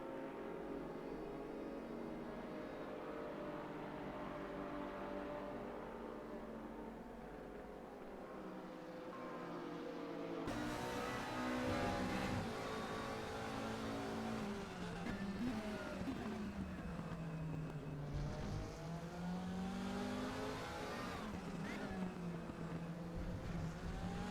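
Two very different GT race cars, GT3 and GT4 machines at Silverstone in Raceroom, roar past one after another onto the main straight, engines rising and falling as they sweep by loud and close, then fade.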